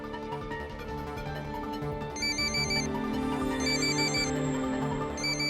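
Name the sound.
phone ringtone ringing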